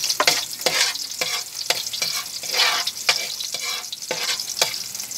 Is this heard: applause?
no